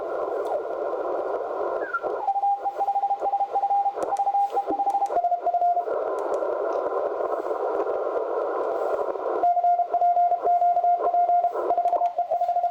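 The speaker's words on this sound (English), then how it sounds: "We'll pull up CW signal." Morse code CW tones come through a Yaesu FT-710 radio as clear beeping dots and dashes over band hiss, with the passband narrowing partway through and the keying continuing.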